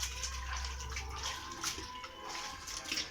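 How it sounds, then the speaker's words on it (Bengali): Wet clay soaked with water and kneaded, a faint watery sloshing and trickle with soft wet squelches throughout. "এই মাটিগুলোই এখানে এই যে এইভাবে ভিজিয়ে পাড়ানো হয়"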